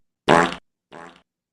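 Two fart sound effects from a played music record, a loud buzzing one followed by a shorter, softer one after a brief pause.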